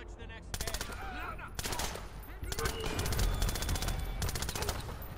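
Rapid automatic gunfire from a stealth-action shooter game, Splinter Cell Blacklist, crackling in dense bursts throughout with faint game sounds beneath.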